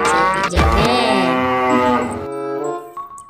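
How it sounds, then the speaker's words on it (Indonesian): A dairy cow in an animal-cleaning video game lets out a loud, drawn-out moo that wavers and then trails off into a quieter tail, heard close and alone. "kita mendapatkan seekor sapi perah teman-teman"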